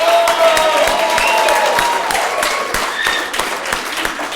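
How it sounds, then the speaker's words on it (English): Conference audience applause at a national conference, dense sustained clapping with some crowd cheering, loud and steady from start to finish without speech. "let the biggest round of applause be for the people responsible for bringing us all together today"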